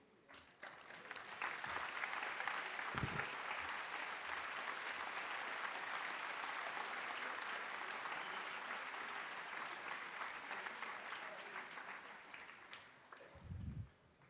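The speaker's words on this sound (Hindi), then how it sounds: "मैं खड़ा होकर आपके लिए ताली बजाता हूं।" Audience applause from a large seated crowd at a spiritual talk in Pune, building quickly into a long, steady roar of clapping and tapering off at the end, with a couple of low thumps.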